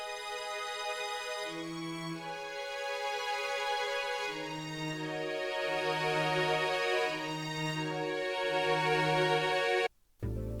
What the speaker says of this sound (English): I then added a VCS legato string from SRX Orchestra, which I also added volume automation